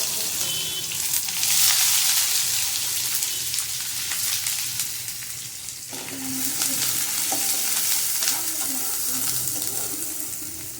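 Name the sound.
onion frying in oil in a wok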